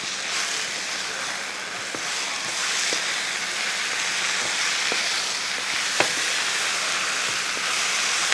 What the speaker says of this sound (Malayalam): ഇനി ഇതൊന്ന് ഇളക്കി കൊടുക്കുക